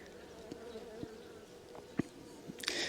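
Honeybees buzz around an opened Mini Plus hive, a soft steady hum with a few brief knocks and clicks and a louder rustle at the end.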